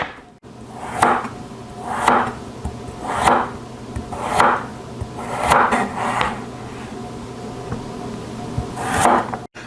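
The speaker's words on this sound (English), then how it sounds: "I want to cut at a bias so that we get these nice oblique shaped pieces" A knife chopping carrots on a bias on a cutting board: about eight evenly spaced thuds, roughly one per second, close and clear with no talking.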